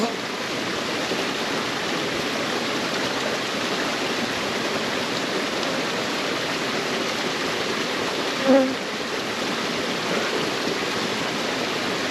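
Honey bees humming inside an open hive during October beekeeping work, a dense continuous buzz close by, with one brief louder sound near the end.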